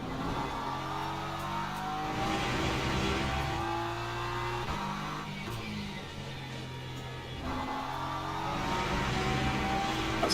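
An LMP2 race car in the Le Mans Ultimate racing game roars steadily, its engine note rising and falling through gear changes as it laps, loud and continuous with no talk.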